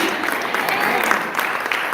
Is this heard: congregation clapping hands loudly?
yes